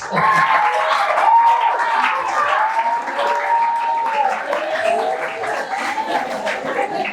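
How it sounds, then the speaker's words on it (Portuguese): Students at a Portuguese-language school talk on juvenile delinquency receive a round of clapping from the audience, steady and fairly loud for the whole stretch, with a few voices and a faint whistle-like tone mixed in over the claps. "Salva de palmas para vocês."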